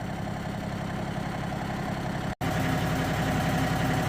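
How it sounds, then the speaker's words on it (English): A brand new small tractor engine idles steadily and close by while hitching up a BBQ smoker trailer, a continuous low rumble with one brief dropout partway through. "So we've got the hitch on our brand new little tractor device there."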